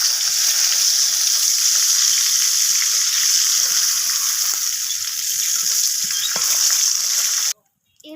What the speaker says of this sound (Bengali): তো একইভাবে লাল লাল করে দু পিস ভেজে নেব।